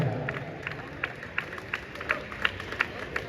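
Crowd at a bodybuilding competition, the Aamdar Shree 2025 60 kg group, breaking into rhythmic clapping, a moderately distant, evenly spaced beat of claps carried over a murmur of voices.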